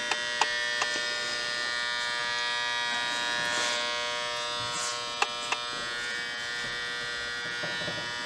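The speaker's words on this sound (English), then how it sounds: "This is the gate relay sticking." A sticking gate relay in a 1965 Bally Bullfight pinball machine buzzes steadily at close range for the whole stretch, a harsh electric drone with a few faint clicks and mechanical ticks over it.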